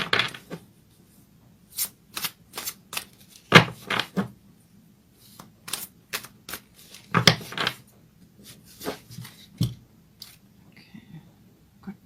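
A fairy tarot deck is shuffled up close, giving irregular bursts of crisp riffling and card slaps separated by short pauses, with no talking.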